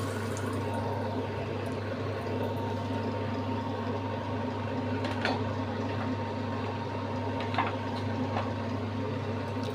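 Asafoetida tempering in hot oil in a wok on a home stove gives a steady, close sizzle with faint crackles throughout, no voices.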